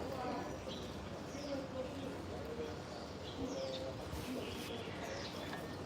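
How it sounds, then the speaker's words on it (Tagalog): Bird calls ring out outdoors in hot weather, faint chirps and short whistles repeating through a dense background of crowd and street noise, with people talking nearby. "May ibon dun, oh."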